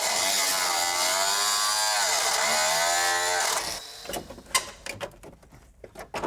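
A power saw cuts out a rusted car rocker panel, its loud, steady whine sliding in pitch for several seconds before stopping, followed by scattered clanks and metallic rattles.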